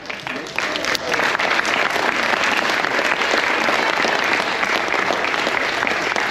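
A large crowd aboard the Carnival Glory cruise ship applauds loudly and steadily at a military appreciation event, clapping swelling after the first second and holding strong, with some cheering mixed in.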